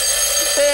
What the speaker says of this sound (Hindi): ये क्या, अलार्म बज गया